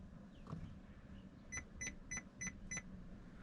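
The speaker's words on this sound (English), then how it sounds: "it's going to beep 5 times" Five short, evenly spaced electronic beeps from the dashboard of a 2008 Isuzu i-290 pickup during a maintenance light reset sound in quick succession over a faint background hum.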